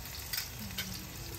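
Garlic frying in a little oil with a close, steady crackling sizzle and a couple of faint stirring scrapes, heard briefly.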